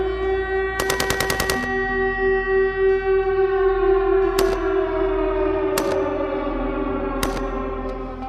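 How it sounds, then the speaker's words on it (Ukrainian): A rapid burst of gunfire rings out, then a few single loud shots cut through a civil defense siren that wails steadily and slowly falls in pitch, loud and echoing, with no voices. "почулася стрілянина, а слідом загула сирена"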